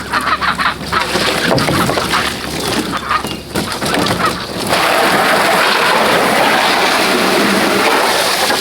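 Ducks quack and honk in a busy, overlapping chorus, fairly close, over steady rushing water or wind noise that fills the background.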